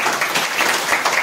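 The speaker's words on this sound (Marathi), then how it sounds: "जोरदार टाळ्या व्हायला पाहिजे." Audience clapping at a religious gathering, a steady dense wash of applause that stays loud and even throughout, with no voices over it.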